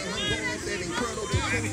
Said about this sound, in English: Crowd don't like that.